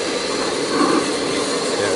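A remote-controlled machine's engine running steadily: a loud, continuous broadband roar with no change in level, close by and alone.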